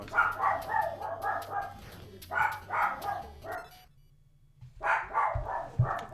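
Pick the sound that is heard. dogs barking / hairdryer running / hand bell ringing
dogs barking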